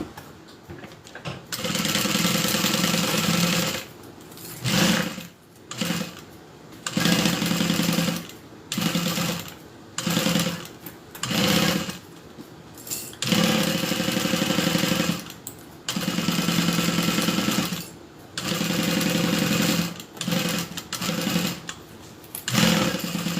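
A sewing machine stitching a Kiana handbag together, running in loud bursts of rapid mechanical whirring separated by short pauses, close up with no talk.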